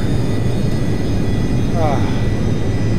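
Rockwell B-1A Lancer jet engines in the X-Plane flight simulator, a loud, steady, dense roar that holds at a constant level throughout.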